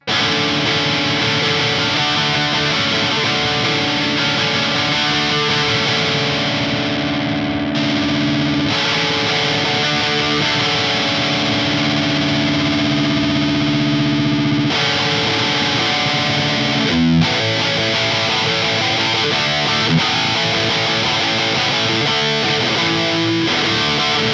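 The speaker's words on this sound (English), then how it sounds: "having a little bit of distortion and really cranking the level is my main use for this Shiba pedal" Electric guitar through a Suhr Shiba Drive Reloaded Mini overdrive pedal with the level cranked, steady crunchy distorted chords and riffs played loudly and continuously with brief pauses between phrases.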